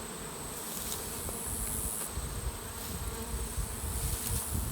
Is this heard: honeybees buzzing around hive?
yes